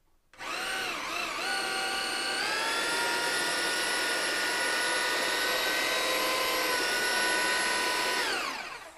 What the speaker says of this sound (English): I give it the final blast with the mixer